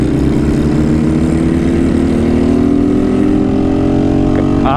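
A car fitted with a swapped-in, non-original engine runs loud and close with its hood cut open, holding a steady rough drone that climbs slightly in pitch near the end as it revs.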